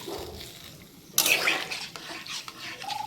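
Potato, pointed gourd and jackfruit seed curry stirred in a pot, with a sudden loud scraping, clattering burst partway through that then settles into softer rustling and clinks.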